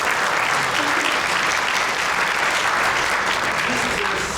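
A large audience claps for the governor of New York at an Asian American and Pacific Islander Commission meeting in Flushing, Queens, a dense, loud and continuous wash of applause filling the whole stretch.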